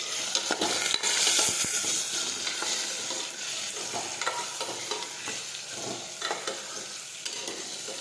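Potato curry sautéing in a pan after sugar is added, with steady broadband sizzling and frequent scraping stirs of a spoon throughout, close and continuous with no talking.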